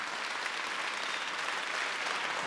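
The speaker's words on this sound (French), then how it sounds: "On les applaudit." Audience applause at a French awards ceremony for workplace insertion and integration, a dense, steady wash of clapping filling the whole stretch at even loudness.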